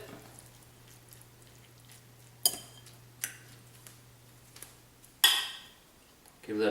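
A spoon stirs a dollop of local pepper jelly into food in a pot, giving a few sharp clinks and scrapes at irregular moments against a quiet background with a steady low hum.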